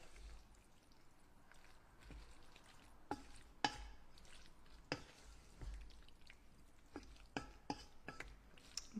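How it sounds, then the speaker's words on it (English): Corn being stirred into a pot of Wendy's-style chili, quiet wet scraping and sloshing with irregular soft clinks of a spoon against the pot, close but faint, with no talk. "So I'm going to stir this up just a little bit."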